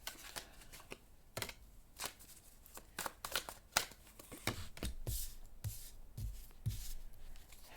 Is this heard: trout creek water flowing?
no